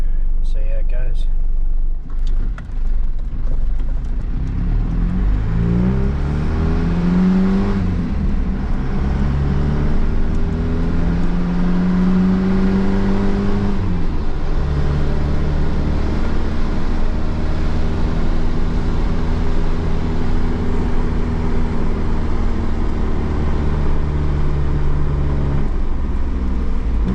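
A vehicle with a 4JB1 diesel engine and a new injector pump is driving, its engine droning steadily and loudly, with pitch rising and falling through gear changes, while someone talks over it.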